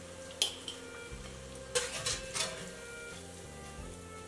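Fried sweet potato noodles lifted out of hot oil to drain, with a few sharp utensil clinks against the pot over a faint, steady sizzle.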